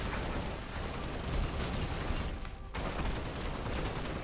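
Dense, continuous gunfire from the video game Halo: Spartan Assault, a loud sustained stream of shots with a brief drop-out in the middle before firing resumes.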